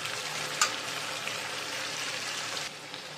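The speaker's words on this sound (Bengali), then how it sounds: "কাঁচা পেঁয়াজটা দিয়ে খুব সুন্দর করে কিছুটা নেড়ে নিয়ে এখন আমি মশলাটার মধ্যে হালকা পেঁয়াজটাকে ফ্রাই করে" Raw onion fries in spices in a pan, giving a steady close sizzle with a few soft clicks of stirring, with no talk over it.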